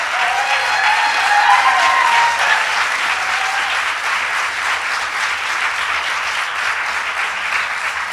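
Sustained audience applause greets advocates at a public bill-related gathering, steady dense clapping filling the full eight seconds at a constant, fairly loud level with no voices over it.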